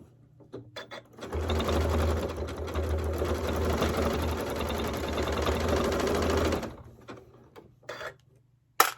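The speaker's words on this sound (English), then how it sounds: "Oh, it helps if I choose the stitch." A sewing machine stitches binding onto a large quilt-as-you-go quilt, running in one steady rapid burst of several seconds with quieter handling clicks before and after.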